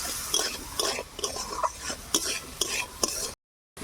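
Carrots fry in hot oil with salt and turmeric while a utensil stirs them, giving repeated scraping and clinking strokes over a soft sizzle, then the sound cuts to silence near the end.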